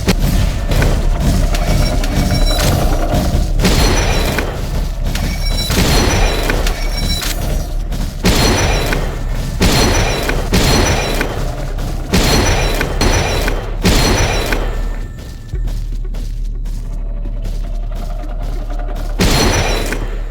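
Gunshots from a sniper rifle, the golden blaster skin, in the video game Doors ring out as a loud, rapid run of booming, crackling blasts in bursts, with brief quieter gaps, and no talking.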